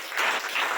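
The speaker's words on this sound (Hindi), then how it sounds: "अभी ताली बजाकर आमीन बोलना चाहिए।" Congregation clapping at a church service, a brief burst of dense, steady applause with no one speaking over it.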